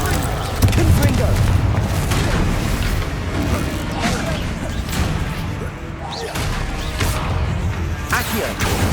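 Confringo explosive spell blasts in Hogwarts Legacy, a dense run of booming, crashing hits layered over continuous game noise and music, loud and close throughout with repeated sharp impacts.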